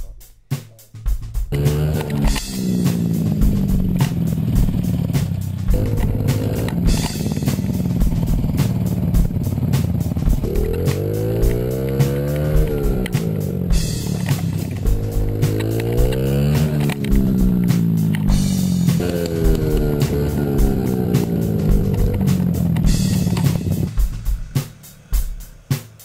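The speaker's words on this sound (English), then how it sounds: "Bouncing on the motorcycle. How about sand? Slipping underneath sand." A motorcycle rides over sand, its engine loud and close throughout, revving up and down in rising and falling sweeps as the rear wheel slips, with clattering and rattling mixed in.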